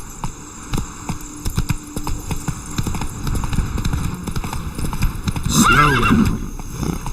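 Steady hoofbeats from Roach, a horse in the video game The Witcher 3, trotting close by, with a loud whinny near the end over a low humming background.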